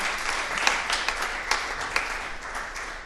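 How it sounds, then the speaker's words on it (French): An audience at an electromobility conference applauds three speakers: dense, steady clapping that holds for about three seconds, with a few sharper claps standing out. "Je remercie nos trois intervenants de leurs interventions. On peut les applaudir."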